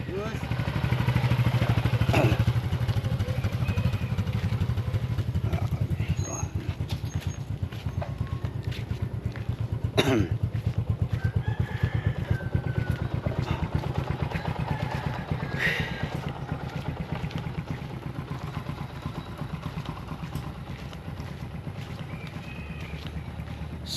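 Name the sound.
motorcycle exhaust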